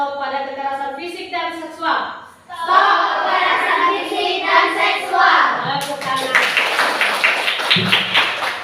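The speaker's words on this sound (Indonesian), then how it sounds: "Tepuk tangan." Schoolchildren at an elementary school clap their hands in rhythmic, patterned bursts close by, following sung or chanted voices at the start, with kids calling out over the clapping.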